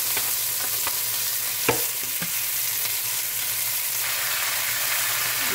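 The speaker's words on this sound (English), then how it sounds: "I'm going to add my oxtail back to the pan." Oxtail goes back into a hot pan and sets off a bright, continuous sizzle. A few faint utensil clicks, with one louder knock, sit under the frying, and no one speaks.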